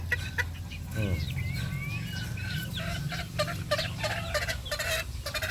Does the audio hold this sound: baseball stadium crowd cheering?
no